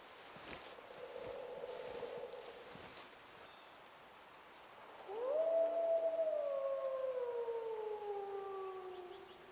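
Wolves howling in the Way of the Hunter hunting game, a faint distant call early on, then one long, clear, mournful howl rising and sliding down, with a second voice joining behind it.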